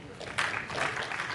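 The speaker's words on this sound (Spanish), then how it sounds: "Vamos a recibirlos a todos con un fuerte aplauso." Audience applause fills a conference hall at a CADE Panamá 2017 panel, a steady wash of clapping that swells after a brief pause and carries on evenly with faint voices mixed in.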